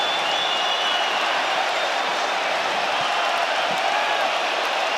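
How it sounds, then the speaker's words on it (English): A capacity arena crowd in Perth, Western Australia gives a standing ovation after a UFC fight, with steady, dense applause and cheering at a distance, unbroken throughout. "A standing ovation from the capacity crowd in Perth, Western Australia."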